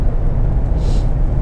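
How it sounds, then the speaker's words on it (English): A 3.7 V6 Mustang with a Borla S-Type exhaust sends out a loud, close, continuous deep rumble that holds steady throughout, with no voices. "You hear the exhaust from the back of the car, and it sounds so good from the inside."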